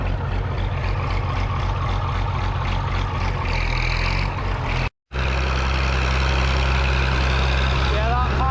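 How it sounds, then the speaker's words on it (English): A car approaches from the opposite direction on a rough, narrow country road, its engine a continuous low rumble under steady cabin noise, with a brief dropout partway through and the vehicle passing close by. "here's somebody coming the opposite direction in a car"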